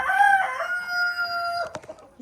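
A single rooster crows loudly nearby inside a chicken coop, a long drawn-out call, followed by a few soft clucks.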